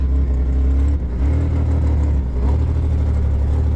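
A Ford Bronco II engine runs slightly rough on a road test, giving a loud, steady mid-pitched drone with a brief dip in power about a second in before it settles back into a constant hum.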